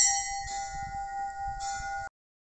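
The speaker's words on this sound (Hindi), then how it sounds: "तो देख सकते हैं शुद्ध महादेव के मंदिर घंटी है।" Temple bell at the hilltop Shuddh Mahadev temple, surrounded by mountains, rings with bright, sustained metallic tones that swell once midway and then cut off abruptly after about two seconds, leaving silence.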